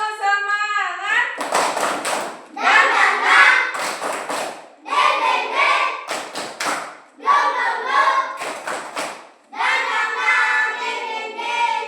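Children in a classroom clap a rhythmic tepuk semangat cheer, with bursts of sharp claps alternating with chanted voices in a repeating pattern, loud and close.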